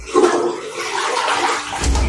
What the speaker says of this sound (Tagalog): Gumagana yung flush niya.